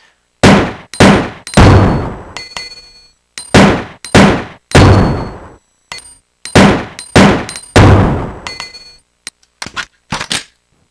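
Leon fires a handgun one-handed in Resident Evil 2, a series of loud, sharp pistol shots in quick clusters of two and three with ringing decay, close and alone with no talking.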